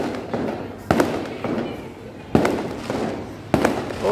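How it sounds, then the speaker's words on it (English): Fireworks go off outdoors near Soi Patong Tower on Patong Beach in Phuket, Thailand, with several sharp booming bursts at irregular intervals over street ambience and voices. "Oh, they got the fireworks right there."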